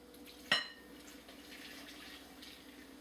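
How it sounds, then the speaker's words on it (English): Sparkling water poured into onion ring batter: a sharp splash at the start, then a faint, steady fizz and trickle, quiet throughout. "we want 4 cups of the sparkling water"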